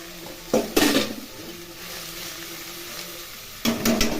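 Cane shoot greens (betel saag) added to a hot pan and fried, with a few clanks and scrapes of a spatula and a bright sizzle flaring near the start and again at the end.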